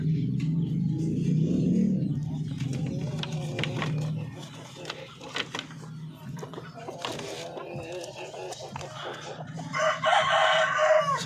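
Breeder chickens fill a farmyard: a rooster crows loudly at the start and again near the end, with clucking hens around it and someone talking over the birds.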